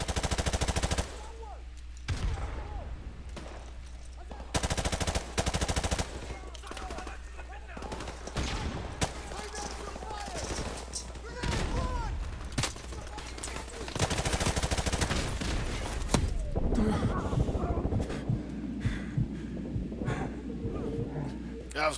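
Machine gun fire rattles in the Modern Warfare Remastered video game, loud bursts of rapid shots and heavy impacts repeated across a chaotic firefight, with a player talking over parts of it.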